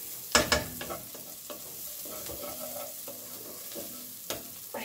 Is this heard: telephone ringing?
no